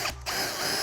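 A power drill fitted with a hole saw cuts a hole, giving a loud, close, continuous grinding whir with a brief dip near the start before the cutting noise resumes steadily, with no talking.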